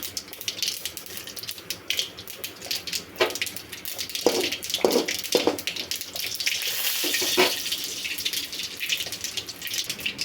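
Mustard seeds and a pinch of fenugreek fry in hot sesame oil for vatha kuzhambu, giving a close, steady crackling sizzle with a few sharper pops near the middle and end.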